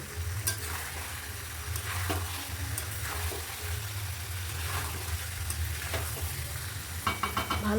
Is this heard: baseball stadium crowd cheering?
no